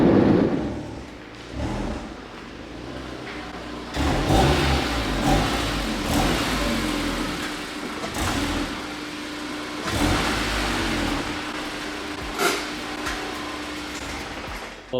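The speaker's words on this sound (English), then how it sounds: "Pretty sad that my diff is louder than my exhaust right now." A four-cylinder car engine fitted with a Tomei exhaust revs in several rising bursts between steady idling, with a rather subdued, close-up exhaust note.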